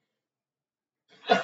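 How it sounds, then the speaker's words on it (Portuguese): A single sharp sneeze bursts out after a long stretch of silence, close and fairly loud. "Vou espirrar."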